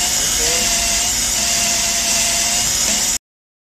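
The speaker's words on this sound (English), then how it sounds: "The tool which I am using is a pneumatic drill machine, and you can see the lapping has been done." A pneumatic drill spins steadily while lapping valves in an auxiliary engine cylinder head, giving a continuous close, loud whirring hiss that cuts off abruptly near the end.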